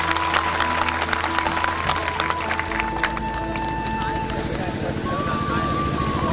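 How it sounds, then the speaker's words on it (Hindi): Loud, dense applause welcomes guests at a Hindi-language political gathering tied to Dindori district, with a steady electrical hum and tonal whine from the sound system running beneath the clapping. "एक बार जोरदार तालियों से स्वागत चाहता हूं"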